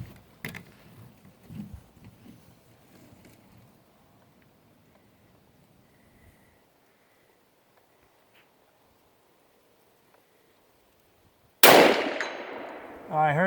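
.308 rifle fired at an AR500 steel target, a sharp, loud blast after a long quiet stretch, with a ringing tail; a few faint knocks and shuffles come earlier.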